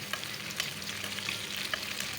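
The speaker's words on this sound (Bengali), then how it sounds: "ইন্ডাকশানে কড়াই বসিয়ে দিয়েছি, দিয়ে দিচ্ছি পরিমাণ মতো তেল, দিয়ে দিচ্ছি পেঁয়াজ কুচি" Chopped onions fry in oil in a wok set on an induction cooktop, giving a steady close sizzle with light crackles and soft stirring scrapes throughout, and no talking.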